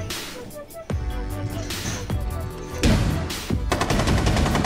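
Shotgun blasts go off in Rainbow Six Siege, about four loud, sharp reports spaced roughly a second apart over ongoing game noise, with no talking.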